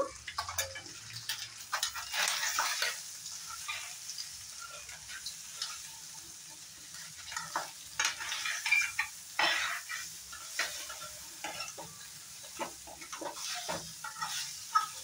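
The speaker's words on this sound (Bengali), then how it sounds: "এখন একটু নাড়াচাড়া করে নেব" Chicken seasoned with black pepper and salt is turned over in a pan with a quiet underlying sizzle and soft, irregular scraping and tapping of a utensil, close up and fairly faint, without talk.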